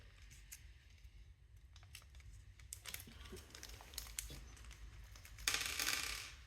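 Small metal hard drive screws for fitting into a desktop PC, jingling and clicking together in a handful of faint, close ticks, ending in a brief louder rattle.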